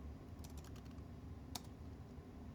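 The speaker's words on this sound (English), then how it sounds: "I'm typing T60 BIOS updater." Clicky keystrokes on an IBM Lenovo T60 laptop keyboard, a quick run of taps followed by one sharper isolated press, close up over a steady low background hum.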